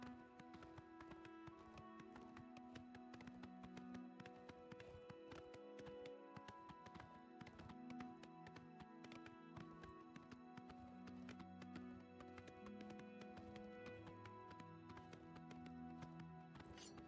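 Horse hooves gallop in a steady clip-clop rhythm in the video game Oblivion Remastered, faint and continuous beneath layered game music with sustained tonal notes.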